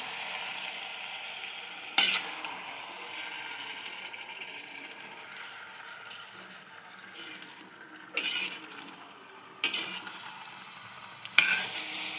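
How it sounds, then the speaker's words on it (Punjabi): A spoon stirs potato, fenugreek and spinach sabzi in a pan, with four distinct scraping clinks spaced several seconds apart over a soft, steady sizzle of oil, and no voices. "ਹੁਣ ਆਪਾਂ ਇਹਨੂੰ ਹਿਲਾ ਦਾਂਗੇ ਚੰਗੀ ਤਰ੍ਹਾਂ"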